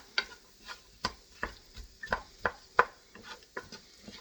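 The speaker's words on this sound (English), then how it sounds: "I'm going to get my favorite wooden spoon and I'm going to get things moving here" Carrots and other vegetables being stirred in a one-pot sausage and rice dish with a wooden spoon, giving a series of distinct knocks and scrapes against the pot at an irregular pace, close and fairly quiet, with no talking.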